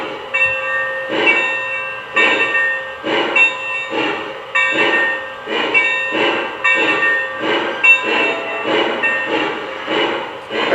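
A Lionel Legacy AT&SF 4-8-4 Northern model steam locomotive chuffs in a steady, rhythmic beat of hissing puffs with a constant bright ringing tone beneath, loud and close.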